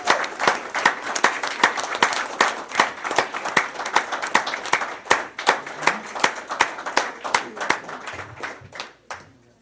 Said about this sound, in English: So let's give a round of applause for the softball program.